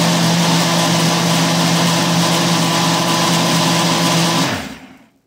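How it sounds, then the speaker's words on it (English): A kitchen blender on its blend setting whirs loudly and steadily while making breakfast juice, a close high motor whine that holds for over four seconds, then winds down and stops. "Got it under pulse. Actually, it's blend, the blend button."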